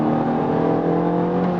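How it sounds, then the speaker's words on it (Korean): A Kia K3 GT facelift with a 1.6 turbo engine plays its synthetic exhaust note through an in-cabin sound generator. A loud, steady engine drone holds throughout with a constant low rumble, heard from inside the car with no talking. "지금 듣는 이 배기음은 실내에서만 들리는 가상의 사운드 제너레이터 소리이거든요"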